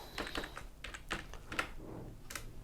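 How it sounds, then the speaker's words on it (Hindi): Quiet typing on a computer keyboard while filling in a biodata table in MS Word, with irregular clusters of soft key clicks and a few sharper taps. "नया रो इंसर्ट करने के लिए सिर्फ आप एक बार टैब प्रेस कीजिए"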